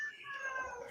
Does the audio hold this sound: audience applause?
no